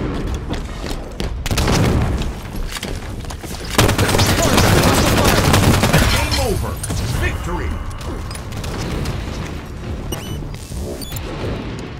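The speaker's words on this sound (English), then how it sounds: "Rocket launcher." Rocket launcher fire and explosions in Halo 5 arena slayer multiplayer, a busy stretch of loud booms and rapid gunfire bursts with a heavy blast around the middle, dense and close.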